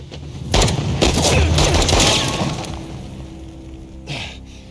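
Gunfire during a firefight in Uncharted: The Lost Legacy, a rapid fusillade of loud close shots crackling for about three seconds, dying away, then one more burst near the end.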